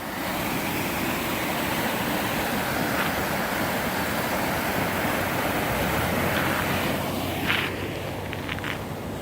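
Water from a river dam pours out through two spillway pipes as a loud, constant roaring rush of broadband noise. It holds steady throughout, with faint scattered knocks near the end.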